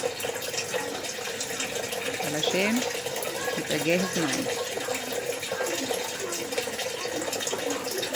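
Water pours steadily into a bowl in a home kitchen during squid cleaning, making a continuous running hiss under close, ongoing talk.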